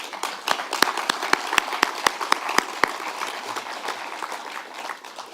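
Audience at a launch celebration clapping for a trustee, a few loud, distinct near claps standing out over a softer spread of many hands, then settling into a steadier, fading patter.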